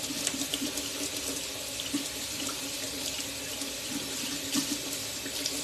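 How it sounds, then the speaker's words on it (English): Drained black beans being rinsed under a running kitchen tap, with steady splashing water hissing in a sink throughout, moderately quiet and close. "I'm gonna rinse those off real quick so they won't be too wet when I add them in"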